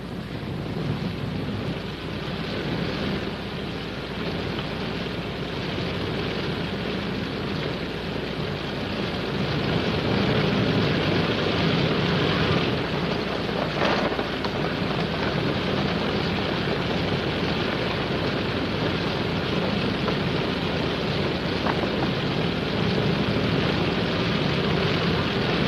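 A propeller plane evacuates wounded from a frozen reservoir in the Korean War, its engine a steady, broad droning roar that holds for the whole span with no voices over it.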